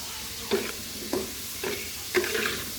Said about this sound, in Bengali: আলুটা ভালো করে ভেজে নামিয়ে নিব